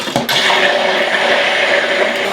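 An electric kitchen mixing machine whirs steadily through beaten eggs for pastry, a loud continuous buzzing drone that starts abruptly after a short knock and runs without pause.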